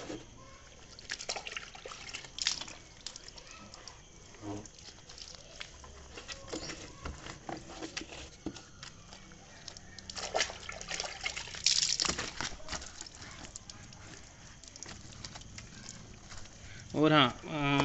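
Water is splashed and wiped over the mud-caked lower body of an RV 400 electric motorcycle, with a wet cloth soaking the dirt loose. It sounds as steady patter and trickling with brief louder splashes, and a voice talks over it at times.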